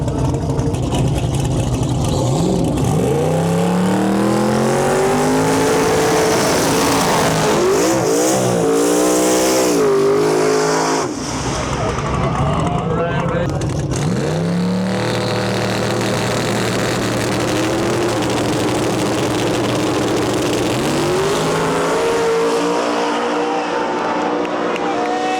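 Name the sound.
small tire drag race cars, 4th generation Camaro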